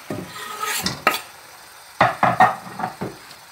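Utensil clatter in a pan of mussels and prawns as chopped fresh parsley goes in, a few scraping and tapping knocks followed by a quick run of clinks, close and moderately loud with no talking.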